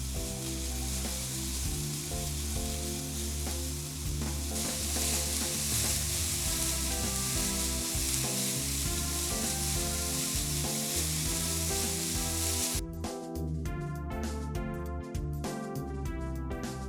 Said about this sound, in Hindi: पैन रखेंगे, पैन में गाजर डालेंगे,